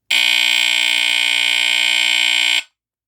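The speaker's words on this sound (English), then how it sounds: "So that is the Jameson Code One model CD-2, 120 volt hardwired smoke detector." A Jameson Code One model CD-2 120-volt hardwired smoke detector sounds its alarm in one loud, continuous piercing tone, holding steady for about two and a half seconds before cutting off.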